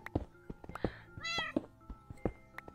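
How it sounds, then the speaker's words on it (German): A cat meows once, briefly and at mid distance, in Minecraft, amid quiet scattered clicks and thumps of gameplay. "Kätzchen."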